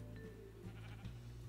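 A Minecraft sheep bleats in a single wavering, nasal call, heard clearly and fairly close, with no talking over it.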